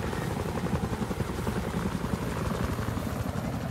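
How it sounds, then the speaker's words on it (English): Enemy helicopter coming in to land in the video game Battlefield 3 on the Sharqi Peninsula map, a loud steady rotor chop and engine drone throughout with no other sounds. "We got an enemy helicopter over here"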